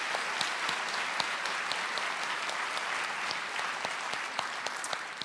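Audience applause for a graduate at a Swift Creek graduation recognition ceremony, steady dense clapping from a room of people sustained throughout at an even moderate level with no talk over it.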